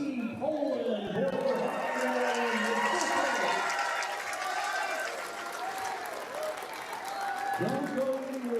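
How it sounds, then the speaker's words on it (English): Applause from the audience at a pool tournament's team final, honoring Team Poland: steady clapping that holds for several seconds at moderate level, heard beneath a commentator's talk. "one more round of applause too for Team Poland"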